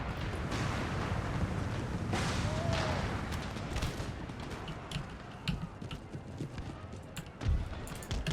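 Cavalry horses galloping across a battlefield in the video game Empire: Total War, a steady rumble of hoofbeats mixed with distant gunfire and battle noise, fairly loud and continuous throughout.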